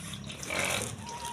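Pigs on a farm grunt at feeding time, giving soft, close, low snorts and grunts against a quiet rustling background.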